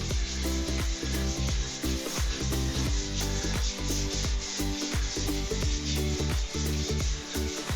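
A Costco HOTO Wand battery spin scrubber scouring a floor, giving a continuous loud whirring, rubbing drone with rhythmic dips and surges as the head moves, with no voices.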